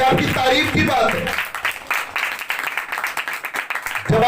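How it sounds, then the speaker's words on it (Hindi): Applause breaks out among a church audience during a sermon, a loud, steady wash of clapping that runs for several seconds, with voices heard at the start and end. "तो जोरदार तालियां बजा दो उसके लिए"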